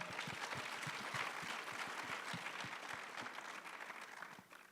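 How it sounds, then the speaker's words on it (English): Conference audience gives a round of applause, a moderate wash of many hands clapping that stays even and then slowly fades toward the end, heard at a distance. "applause."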